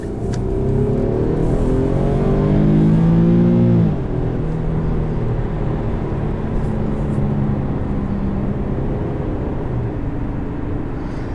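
A 2015 Infiniti Q70L with the 3.7-litre engine pulls hard under acceleration, a steady loud engine drone rising in pitch for a few seconds, then dropping after a shift and carrying on evenly at cruise.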